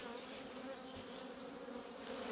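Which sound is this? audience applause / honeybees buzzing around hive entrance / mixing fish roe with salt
honeybees buzzing around hive entrance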